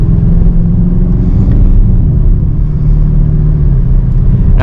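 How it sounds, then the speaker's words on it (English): A 2023 BMW XM picks up speed on a light tap of the gas, giving a loud, steady engine rumble from inside the cabin with a mild rise in pitch and no talking. "just tapping the gas, it's got a little bit of acceleration to it."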